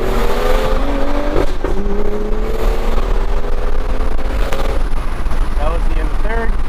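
A 2013 BMW 135i with an N55 engine, tuned FBO on MHD stage 2+ with E30 fuel, pulls hard through first gear and shifts into third. The engine note climbs and drops at each shift, loud and close, with wind and road roar and a voice over it.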